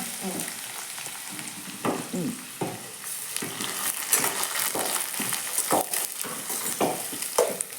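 Cumin, mustard seeds, curry leaves and chopped onion frying in hot oil, a steady close sizzle broken by scraping stirring strokes, with no one talking.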